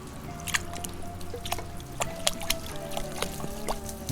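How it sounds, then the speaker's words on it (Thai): Water flows from a drum through a homemade shake-operated check valve siphon, splashing and dribbling steadily with repeated close drips and small gurgles over a low background hum, with no talking. "น้ำเขาเวลาเราเขย่าแล้วมันก็จะออกอย่างเงี้ยครับ ครับก็ไหล จากถังลงมานะครับ"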